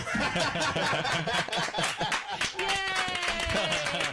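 Scattered audience clapping breaks out in a loose rhythm of sharp hand claps, mixed with chuckles and a talking voice over the top, close and lively.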